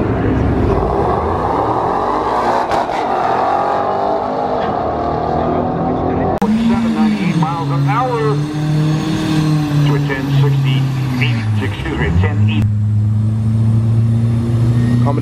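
Ford Mustang racing a Nissan Altima, with a loud, sustained engine drone that rises and dips in pitch through shifts and acceleration, while a person talks over it throughout.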